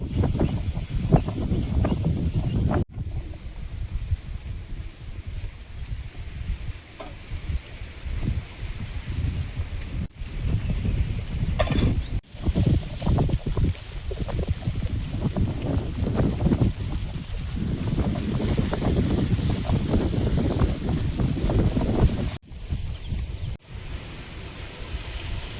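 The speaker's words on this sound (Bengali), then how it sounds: "খুব সুন্দর হাওয়া দিচ্ছে" Steady outdoor wind gusting on a breezy day, a constant low rushing roar with microphone buffeting that swells and eases, loud and close throughout with no talk.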